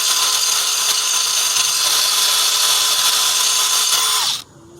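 A power drill fitted with a lawnmower blade sharpener attachment grinds against a steel mower blade, a loud steady high-pitched whine that runs unbroken for about four seconds, then cuts off abruptly.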